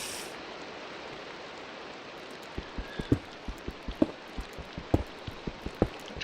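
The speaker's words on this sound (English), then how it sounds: "It's a rainy night out here." Steady rain falls at night in Minecraft, a broad hiss filling the whole clip, with a string of soft drip-like taps and thuds about every half second in the second half.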